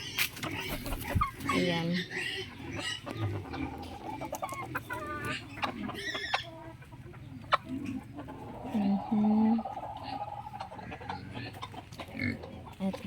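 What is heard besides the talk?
chicken clucking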